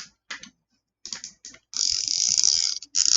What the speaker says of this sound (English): Oh, I love that ratcheting, though.